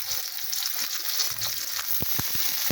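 Ginger, garlic and onion sizzle and fry in hot oil for tinola, a steady broadband hiss with soft stirring scrapes and a few sharp crackles near the end.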